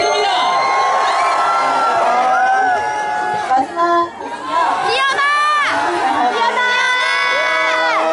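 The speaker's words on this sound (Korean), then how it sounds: "뜨거운 박수 부탁드립니다" A crowd at a Korean university festival stage cheers and shouts in loud, excited waves. High-pitched whoops and screams rise over a continuous roar, with a short dip partway through.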